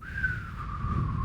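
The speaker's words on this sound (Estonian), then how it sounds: "see kõlab nagu see, kui mina vilistan" A person whistles a single breathy, wavering tone that slides slightly downward, close and fairly loud over a low background rumble.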